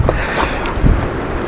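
Wind buffets a microphone outdoors near a Subaru BRZ, giving a loud, rough, continuous rumble with irregular gusty thumps throughout.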